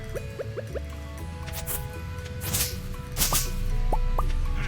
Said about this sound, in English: I'm gonna refill my water.